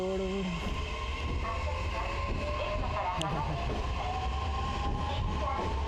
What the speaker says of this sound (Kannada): ಪುಟಾಣಿ ಟ್ರೈನ್ ನೋಡಿ. ಬಟ್ ಹೆವಿ ಸ್ಪೀಡ್ ಇದೆ, ಎಲೆಕ್ಟ್ರಿಕ್ ಟ್ರೈನು.